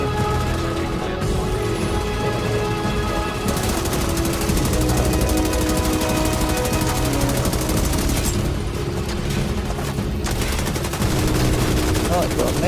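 Sustained automatic gunfire from another player and a deployed turret in the shooter The Division 2, dense rapid bursts that run almost without pause, loud and close, with a voice talking over them.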